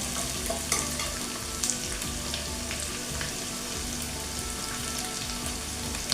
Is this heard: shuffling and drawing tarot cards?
no